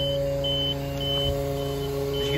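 Hydraulic pump of a 2012 Iveco Daily 3.0TD 4x4 24-metre mobile elevating work platform running steadily while the machine levels itself, a continuous close mechanical whine and hum with an intermittent high electronic beep over it.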